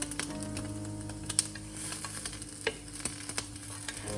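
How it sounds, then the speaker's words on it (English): Soya meat grilling, with a steady low sizzle under a scatter of small clicks and taps, as if pieces are being shifted with chopsticks; quiet and close, no talking. "Flip them with chopsticks and let them grill for another 5 minutes."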